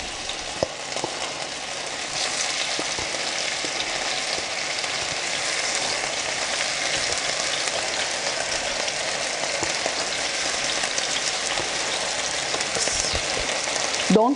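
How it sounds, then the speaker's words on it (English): Beef searing in warm oil in a pan on medium heat, a steady close sizzle and crackle of frying that holds unbroken throughout with no talking. "now it's ready to be seared on the pan"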